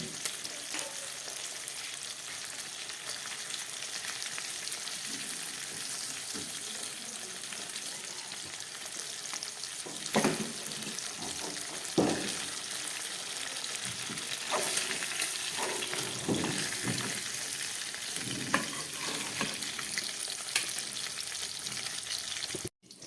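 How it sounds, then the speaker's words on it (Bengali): Bele fish, a soft Bengali fish, frying in hot oil in a pan, with a steady broadband sizzle throughout and occasional sharper crackles and spatters as the pieces are gently turned. "মাছগুলো আমার ভাজা হয়ে গেছে।"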